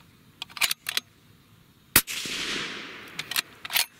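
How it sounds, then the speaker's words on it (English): A Savage 110 Light Varmint rifle in .308 Winchester fires one loud, sharp shot on an outdoor range, and its echo rolls away slowly. A few fainter clicks and knocks come before and after. "we will move over to shooting the same bullets again with different powders"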